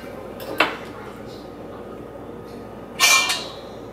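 A spoon scoops ripe avocado flesh away from the skin while making guacamole, two brief scraping strokes about two and a half seconds apart over quiet room tone.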